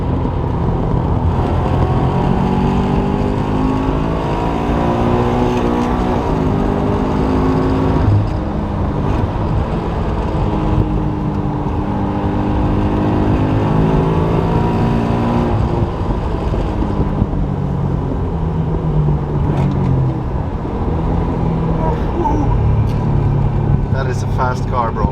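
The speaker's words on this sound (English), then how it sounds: "That is really a fast car." A stock Toyota GT86 sports car accelerating hard, its engine note climbing in repeated rising sweeps beneath excited voices, with steady road and wind roar filling the cabin throughout.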